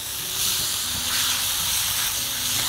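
Minced garlic hitting a hot pan, a loud steady hiss of frying that swells and holds for a couple of seconds, close and without talk.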